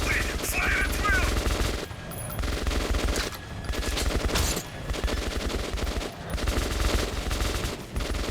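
Sustained gunfire from a first-person shooter set in the Metro 2033 Redux subway tunnels: loud rapid bursts of automatic weapons overlapping almost continuously, with brief lulls and sharp cracks throughout.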